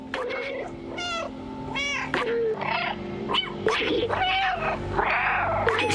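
A cat character in a video game meowing repeatedly, several drawn-out, close, clear meows in a row with short gaps, over a low background hum.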